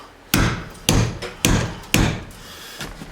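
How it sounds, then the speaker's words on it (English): A hammer strikes a socket extension on a 1/2 inch drive socket during a Ford F150 interior teardown: four sharp, loud metallic-wooden knocks at uneven intervals, with a fainter tap between, close by and without speech. "Nothing a little hammer action we can't fix."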